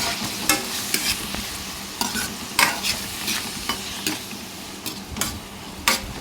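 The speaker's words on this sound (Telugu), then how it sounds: "ఈ విధంగా కలిపేసుకొని 1-2 నిమిషాలు ఆయిల్లో ఫ్రై అవుతామండి" Chopped tomato and onion sizzling in hot oil for an Andhra-style raw egg curry, with a spoon scraping and stirring the pan in repeated sharp strokes over a steady low frying hiss.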